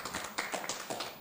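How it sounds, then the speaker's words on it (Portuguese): A brief burst of applause at a Portuguese business summit panel on the cultural and creative industries, a few scattered, fairly faint claps heard alone in a short, uneven flurry. "Peço também uma salva de palmas para o Fábio."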